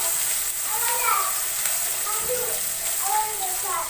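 Sliced onion sizzles steadily in a pan while a spatula stirs it gently, a continuous fine crackle of frying with a voice speaking over it.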